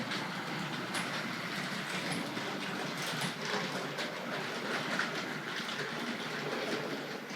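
A small Hornby Dublo model tank locomotive rumbles steadily along its track, many wheels producing a continuous soft clatter with faint clicks, close by and unbroken.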